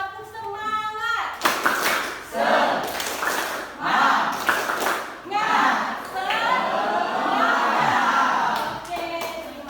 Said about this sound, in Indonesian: sama-sama tepuk semangat ya